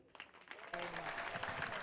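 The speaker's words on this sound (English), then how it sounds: "another round of applause for Nikki Haley" An audience at a forum on Israel–US relations applauds Nikki Haley in a short burst of clapping that swells suddenly partway through, with some crowd voices mixed in.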